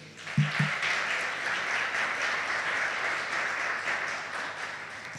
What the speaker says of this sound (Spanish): Fuertes los aplausos para Sara Benítez.